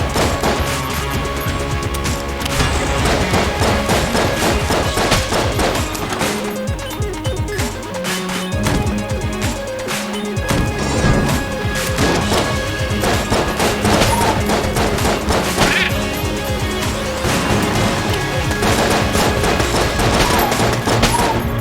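In Enter the Gungeon, rapid bursts of gunfire clatter nonstop amid dense game music and impact crashes, all loud and layered, with no talk.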